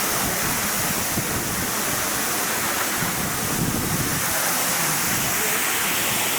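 Soothanabbi waterfall in heavy monsoon flow, a continuous loud roar of rushing, crashing water that stays steady and dense throughout with no voices over it.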